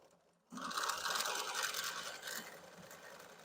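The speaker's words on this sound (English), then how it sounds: "we are going to go ahead and press the start-stop button and start stitching" A Bernina 770 QE Plus sewing machine starts up after its start-stop button is pressed and stitches steadily, a close, even mechanical whir that begins abruptly and continues without talk.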